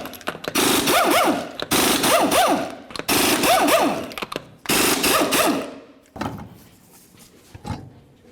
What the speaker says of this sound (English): continue on by removing all 6 of your 21mm lug nuts